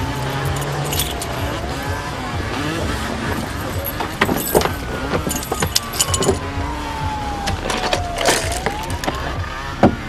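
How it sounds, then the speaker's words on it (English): A bunch of keys jangles in sharp, irregular metallic bursts, clustering in the second half, over a continuous background of a car or road vehicle rumbling nearby; no speech heard. "give me the keys."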